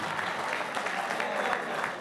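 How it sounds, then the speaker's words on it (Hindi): Steady audience clapping at an Urdu and Punjabi poetry gathering, a dense continuous wash of many hands, moderately close and sustained throughout. "भरपूर तालियां"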